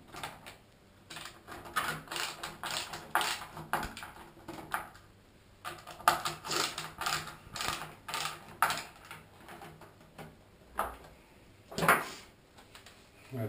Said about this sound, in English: Now I fix the screws.